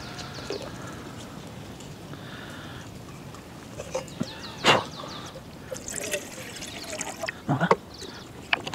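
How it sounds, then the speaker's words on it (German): Water, about 300 ml, is poured for noodle soup outdoors in a wild garlic field. A soft trickling, dribbling pour comes with faint bird sounds and brief louder splashes near the end. "300 ml Wasser."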